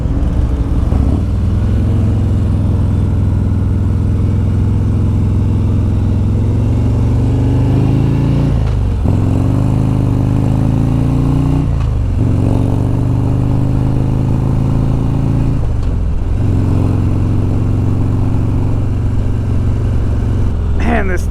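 A 2023 Harley-Davidson Road King Special engine rumbles loudly and steadily while the bike is ridden, rising with each gear and dropping at the shifts. A rider talks over it throughout.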